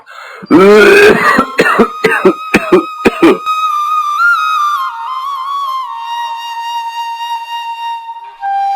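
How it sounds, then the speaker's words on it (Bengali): A cartoon character coughs hard in a rapid series of loud, harsh bursts. A thin whistling tone follows and lingers. "কাশিটা দিন দিন খালি বাইরেই যাইতেছে"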